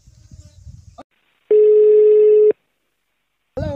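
A telephone call in progress: a single steady one-second tone sounds alone and clearly, framed by short bursts of line noise and clicks, with silence in between.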